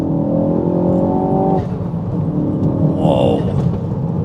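A Mk4 Ford Focus ST pulling hard on a back road, loud engine drone rising in pitch, a quick gear change, then climbing again with a whine, close and continuous.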